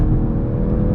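A brand new car accelerating hard on a highway from around 60, giving a loud, close, continuous engine whir with a low rumble that holds steady through one brief second, with no talk.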